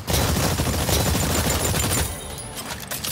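Exoprimal video game gunfire, dense, rapid and continuous like a sustained fusillade, loud for about two seconds and then thinning to softer scattered shots.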